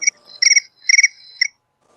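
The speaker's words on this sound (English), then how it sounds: "There's crickets. That was my alarm for my meds." Cricket chirping used as a phone medication alarm: four short bursts of bright, rapid trilling chirps in an uneven rhythm, loud and close, alone with no talking, then silence.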